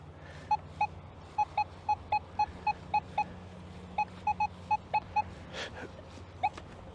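A Nokta Legend metal detector sounds its target tone as a string of short, clear electronic beeps, some paired or in quick runs, with a brief pause midway before more beeps, over faint background hum.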